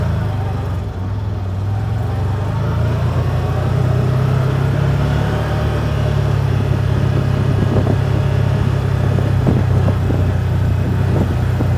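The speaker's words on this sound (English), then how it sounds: "So we'll drive it around the lot a little." A 2024 CFMOTO ZFORCE 950 Sport four-seater UTV is driven slowly around a lot, its engine a steady close hum and drone with a few light knocks and rattles as it rolls along.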